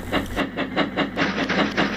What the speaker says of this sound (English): He was still clunking and wheezing steam in all directions.